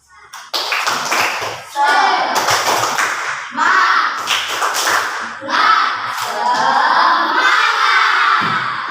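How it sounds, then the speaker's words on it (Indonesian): Students in a classroom clap together with energy, sharp repeated bursts of hand claps mixed with children's shouts and thuds, loud and close, arriving in several waves. "coba tepuk tangan semangat dulu"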